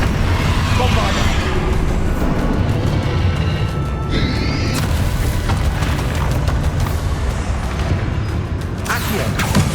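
Bombarda spell explosions in the video game Hogwarts Legacy, heavy booming blasts inside continuous loud, dense battle noise, with voices shouting through the fight.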